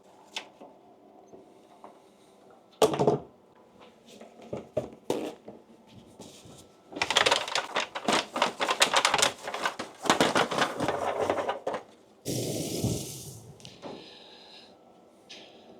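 Cooking oil sprays in short hissing bursts over a square aluminum baking dish while making a cream corn casserole, with clattering and handling noises before and around the spray.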